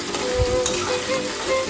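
Paneer pieces shallow-frying in hot oil, a steady close sizzle and crackle that stays loud and even from start to finish with no talking over it.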